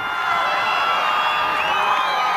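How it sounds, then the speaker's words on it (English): A Titan high school 8-man football crowd at a state championship game roars in a steady, frenzied cheer, with a dense wash of shouting voices from the near-side stands. "this Titan crowd over here on the near side is in a frenzy"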